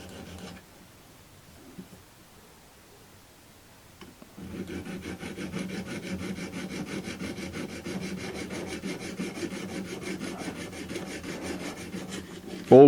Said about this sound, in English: An ordinary file won't touch it, it just skims over and doesn't do anything.